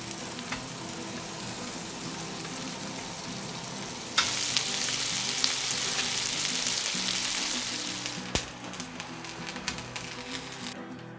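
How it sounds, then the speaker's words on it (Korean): A mung bean pancake fries in an oiled pan with a steady close sizzle and crackle that swells partway through, as if the pancake were pressed or turned, and no one speaks. "이렇게 앞뒤로 노릇노릇 익으면 덜어주시면 돼요"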